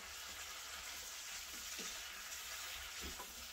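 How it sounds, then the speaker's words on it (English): Garlic butter prawns with Himalayan salt sizzling in a pan while being stirred, a steady frying hiss with a few soft scraping strokes of the utensil, fairly quiet. "Give it a good stir."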